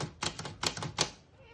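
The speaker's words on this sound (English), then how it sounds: "Backspace on the top right keyboard works good." Three sharp mechanical clacks from the backspace key of a 1922 Remington Portable antique typewriter, struck in an even rhythm close up, with faint room noise trailing off afterward.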